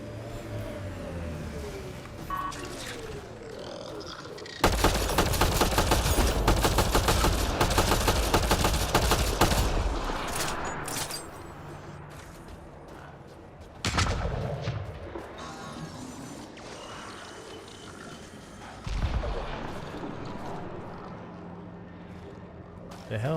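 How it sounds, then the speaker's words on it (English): Gunfire and artillery-like bursts in the Mass Effect Andromeda video game, a dense loud barrage for several seconds followed by scattered shots and booms over ambient game sounds. "The hell are they shooting at?"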